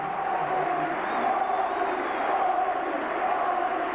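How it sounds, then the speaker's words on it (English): A rugby league stadium crowd on the popular side applauds and roars during a 1992 St Helens versus Salford match, a sustained, distant-sounding wash of massed noise without a break. "Rapturous applause from the popular side."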